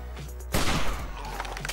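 A single gunshot from a sniper rifle in the survival game 7 Days to Die cracks sharply, with a short trailing rumble, amid quiet game ambience.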